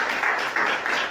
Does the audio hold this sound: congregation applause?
yes